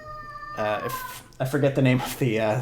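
A house cat meows several times in drawn-out, rising and falling cries, close and loud, alternating with someone talking.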